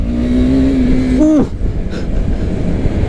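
A single-cylinder motorcycle engine revs high and steady, then drops off sharply, leaving a lumpy, throbbing idle.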